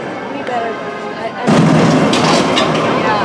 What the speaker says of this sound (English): Right by the Fire Chaser Express roller coaster. Got the firecrackers and the booms.